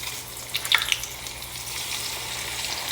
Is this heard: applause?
no